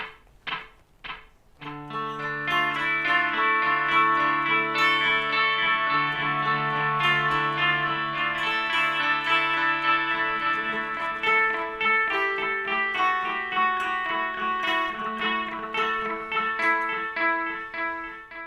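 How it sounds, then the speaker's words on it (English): An electric guitar runs through a Boss DD-7 delay pedal set to its 3200 millisecond mode, with a few picked notes followed by sustained chords whose slow repeats layer into a dense wash, close and steady, with no talking. "I've jumped up to the 3200 millisecond delay to get some slower repeat sounds."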